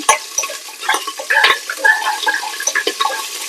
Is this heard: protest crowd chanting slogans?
no